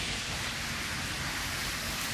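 Heavy rain pours down on someone out riding a bike, a loud unbroken hiss of water that fills the whole moment, with no voices heard.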